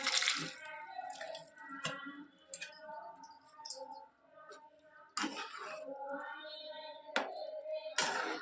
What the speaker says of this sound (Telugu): ఇందాక మనం ఉడికించుకున్న కూరగాయ ముక్కలన్నిటినీ నీళ్లతో సహా ఇందులో పోసేయాలండి